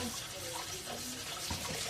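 Water runs steadily from a faucet, a faint hissing splash heard throughout with a voice briefly audible underneath.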